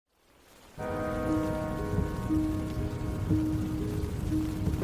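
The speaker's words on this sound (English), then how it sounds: "It pattered on the canvas top of Heidi Posnan's Jeep" Steady rain pattering and drizzling on a Jeep's taut canvas top, a dense, even wash of drops with no voices.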